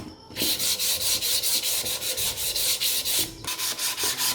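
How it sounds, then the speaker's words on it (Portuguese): Fine 320-grit sandpaper rubbed over a wooden piece in steady back-and-forth strokes, close and rhythmic, a continuous raspy scratching with a short pause near the start and another late. "Agora a gente vai lixar essa peça, tá? Uma lixa fininha"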